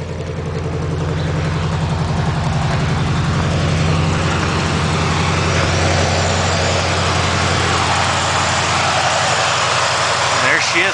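A Chevrolet Chevelle with a 400 small-block V8 and 2.5-inch exhaust pipes idles steadily after a cold start, a loud close low rumble with an even pulsing lope and no talking.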